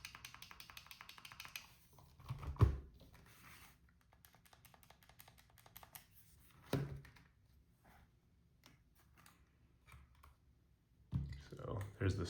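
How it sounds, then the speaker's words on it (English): Buttons on a PlayStation Portal handheld pressed near the microphone, scattered soft clicks and clacks with a few louder thunks, quiet and irregular. "Here's the Portal's clacky buttons."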